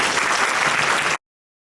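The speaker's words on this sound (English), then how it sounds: "Let's give them another round of applause." A forum audience applauding city council candidates, dense and steady clapping from a crowd that cuts off abruptly after about a second.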